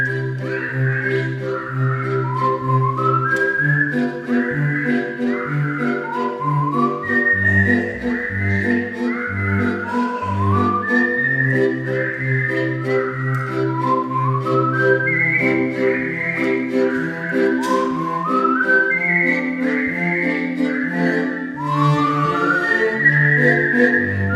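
A solo performer whistles a continuous, melodic tune at a live show in Luçon, France, the bright warbling line carrying loudly and steadily over a sustained instrumental accompaniment.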